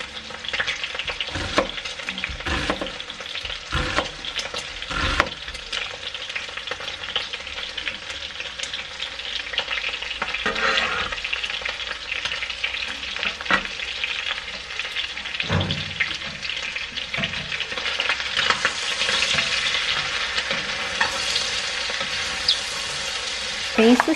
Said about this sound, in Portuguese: Uma cabeça de alho, né, gente? Agora eu vou deixar isso aqui dar uma dourada.